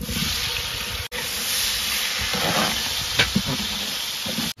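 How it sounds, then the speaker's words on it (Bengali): Chopped tomatoes and lightly fried onions with green chillies cooking in hot oil for a biryani masala, giving a loud continuous close sizzle and hiss with a brief break near the start. "পেঁয়াজটা হালকা ভাজা হয়ে গেছে, এবার দিয়ে দেবো আমরা কেটে রাখা টমেটো"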